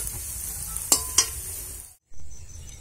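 Mustard flower fritters fry in hot oil with a continuous close sizzle, two sharp utensil clicks partway through, then a brief drop to silence before the sizzle resumes.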